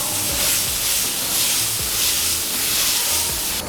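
Dosa batter made with chickpeas sizzles loudly on a hot pan, a continuous close hiss and crackle that swells and eases in gentle waves, with no talking.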